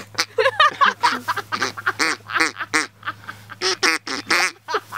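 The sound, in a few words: duck call blown to imitate duck quacks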